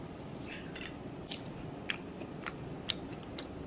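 Crispy fried rohu fish being bitten and chewed up close, with a few sharp crunchy snaps standing out over a quiet, steady background.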